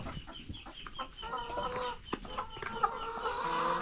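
Backyard chickens clucking as they eat home-mixed feed of corn and bran, a fairly quiet, continuous chatter of soft clucks up close, with no speech.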